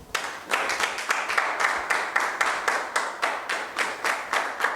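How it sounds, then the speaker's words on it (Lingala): A studio audience at a televised gospel singing show claps in a steady, even rhythm, with sharp regular hand claps repeating about three times a second, loud and close without any talk over them. "sous les applaudissements de l'assistance, nous invitons Maestro Gorille"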